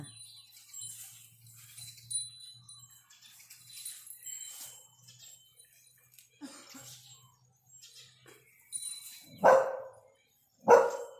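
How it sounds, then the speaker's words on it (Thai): Dog barking outdoors on a farm near a pen, two loud sharp barks close by near the end after quieter background sounds. "จะเห่าทำไมลูก"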